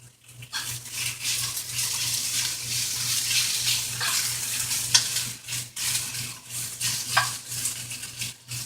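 Beef sizzles in sesame oil in a pan, a dense crackling hiss over a low steady hum, with occasional scrapes and stirring clatters.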